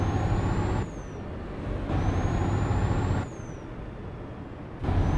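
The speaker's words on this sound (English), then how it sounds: "Let me know if the truck noises are too loud" Air brakes and engine of a truck in Euro Truck Simulator 2 driving in Italy, a loud steady rumble with repeated rising hisses that cut in and out in rhythmic cycles.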